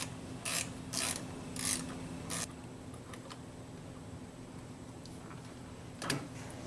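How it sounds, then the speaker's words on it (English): A ratchet and socket loosen a Torx screw during a Honda Civic cruise control and radio combination switch replacement, giving several quick bursts of ratcheting clicks, then quieter scattered clicks and one more short burst near the end. "I have the ratchet and socket on that Torx. And I'll just loosen it up."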